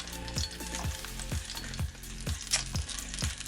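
Food simmering in a pan of oil on a boat gives a steady, close crackling sizzle with repeated soft low thumps, like the boat rocking or water lapping, running throughout.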